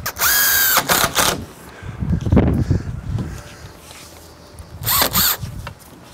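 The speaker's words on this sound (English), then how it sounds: "Let's grab my drill." A power drill whirs in short bursts while driving screws into a deck railing outdoors, with a long spin at the start, handling and knocking noises in between, and another burst near the end.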